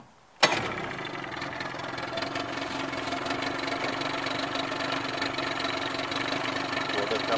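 A 1990 Evinrude 25 HP outboard motor starts abruptly on a lake, then settles into a steady, low idle that keeps running evenly and close by.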